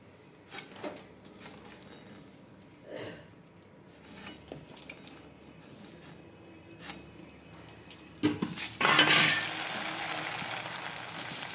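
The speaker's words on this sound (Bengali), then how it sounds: "কারি পাতা কারি পাতাটাও ভাজতে হবে দেখো" Curry leaves fry and get stirred in a pan while making chira bhaja with peanuts, with intermittent metal scrapes and clinks over a low sizzle that swells into a louder, fuller crackle near the end.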